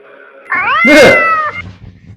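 A cat meows once, loud and close, a drawn-out wavering cry over a quiet indoor room with faint background noise after it.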